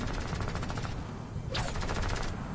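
Rapid automatic gunfire from the video game Fortnite rattles in a fast, continuous burst, loud and steady throughout.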